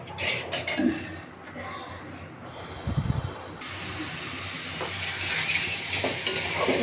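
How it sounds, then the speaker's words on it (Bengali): Lentils (dal) fry in a pan with a continuous sizzling hiss that grows louder partway through, over which a spoon stirs and scrapes against the pan. "এবার একটু ভেজে নিচ্ছি"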